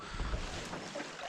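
An outboard motor drives a fishing boat along a shallow river, its tell-tale outlet not spitting water; a steady, dense engine-and-water roar with wind buffeting the mic fills the short stretch without letup.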